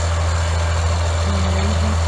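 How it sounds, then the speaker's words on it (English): A tractor engine runs steadily close by, a loud low idling rumble with a constant droning hum and no talking. "taking the tractor home"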